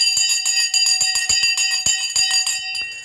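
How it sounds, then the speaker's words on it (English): A bell rings loudly and continuously with a bright sustained metallic tone, struck in rapid repeated hits for about three seconds, alone with no talking. "Ring the bloody bell."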